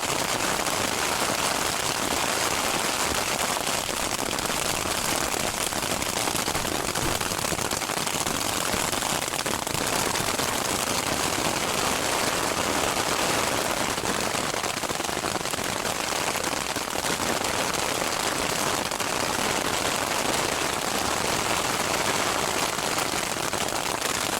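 Hail falling at a high-altitude campsite around 11,000 feet on a backpacking trail, a dense, steady patter and clatter of pellets striking nearby surfaces that continues loud throughout without letup.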